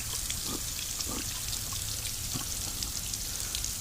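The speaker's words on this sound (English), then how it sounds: "we are getting water out of the top of the water pump" Water from a garden-hose flush adapter trickles and splashes steadily out of the top of a Johnson Evinrude outboard motor's water pump, with a continuous wet hiss and a few soft drips over a low background rumble.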